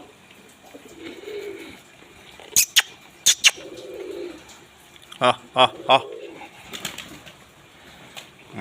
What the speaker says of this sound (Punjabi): ਨੀਲੀ ਕਬੂਤਰੀ ਪੜਾਕੇ ਪਾਉਂਦੀ ਹੈਗੀ ਜਦੋਂ ਉੜਦੀ ਆ